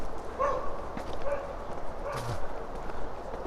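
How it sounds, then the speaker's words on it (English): A puppy up on high ground yaps a few short, thin barks from some distance, scattered across an outdoor walk over steady wind and ambient noise, with a brief low thud near the end. "I hear a puppy on the high ground."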